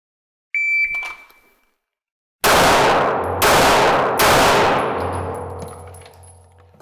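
A 9mm handgun fired three times in quick succession at an outdoor shooting range. The loud, sharp reports ring out after a short electronic beep.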